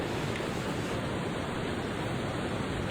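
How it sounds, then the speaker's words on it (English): Mountain river water rushing in a continuous, dense broadband roar, steady and fairly close with no breaks or voices. "And you can just hear the water as well"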